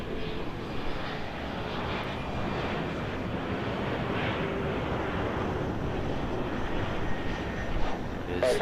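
An American Airlines CRJ7 airliner from Tucson arrives on runway 24 right at Los Angeles airport, a steady moderate jet rumble and hiss held throughout with slight swells near the end.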